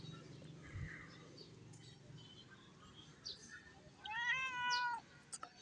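A cat meows once, a clear rising-falling call near the end, with faint chirps and low household background noise before it; a person speaks indistinctly earlier.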